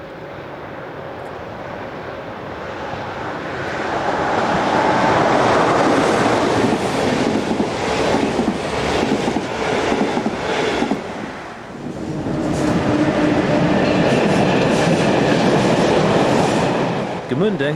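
The electric locomotive 111223 hauls a train bound for Frankfurt, rumbling past with rolling wheel noise and rhythmic clatter. The sound swells as it approaches, eases briefly, then builds again at close range.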